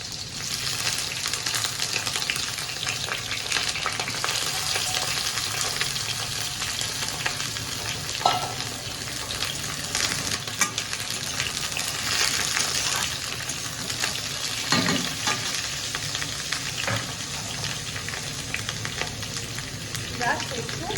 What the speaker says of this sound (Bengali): প্রথমে হচ্ছে বেগুনগুলোকে হালকা তেলে কষিয়ে নেব।